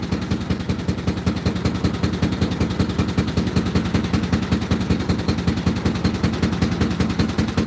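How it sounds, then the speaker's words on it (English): Car engine running on an early morning cruise, heard from inside, a loud steady rapid thrumming pulse with a rough, even rhythm throughout and no talk over it. "I'm just listening to the engine."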